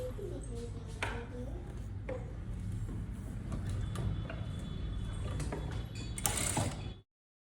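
Sewing machine stitching a coat collar on a blouse, a close steady mechanical whir with clicking gear and ratchet sounds that runs for several seconds before stopping abruptly.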